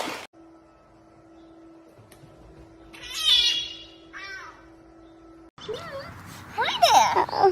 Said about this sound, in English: Oh, what a funny cat.